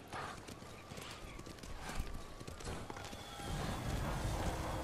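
Horse galloping in the samurai game Ghost of Tsushima, a steady close rhythm of hoofbeats with an occasional snort, continuing without pause under background ambience.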